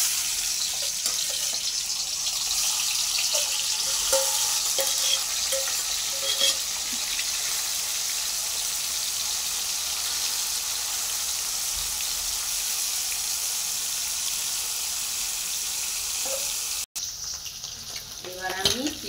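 Salt-and-turmeric marinated prawns drop into hot oil in a kadai, giving a continuous loud hissing sizzle that stays steady throughout, with a brief break near the end before the frying resumes.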